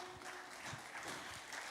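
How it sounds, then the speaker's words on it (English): A church congregation on White Sunday applauds the children with faint, steady, continuous clapping that sounds distant and muffled. "Another round of applause for our children."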